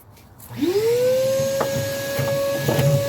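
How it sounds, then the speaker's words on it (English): A vacuum cleaner starts up and whines to full speed while sucking ashes out of a Camp Chef or Pit Boss pellet grill, a loud steady close hum punctuated by a few rattling clicks of debris being pulled through the hose. "Now you see how this sucks all the ashes up?"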